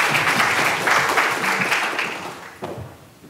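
An audience in an evening lecture hall breaks into dense, steady applause welcoming a speaker, many hands clapping at once before the sound thins out and fades near the end.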